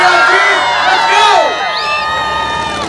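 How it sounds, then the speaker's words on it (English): A crowd cheers and whoops on a Saturday night at the All Star Homecoming dirt track race on the Tennessee-Georgia state line, a loud, dense wash of voices that swells then eases slightly. "We want to hear y'all cheer."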